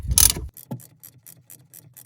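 Ratchet and socket tightening the injector bolts on a 2003 Sea-Doo GTX 951DI engine: a loud clank first, then a steady series of close, crisp ratcheting clicks at an even pace.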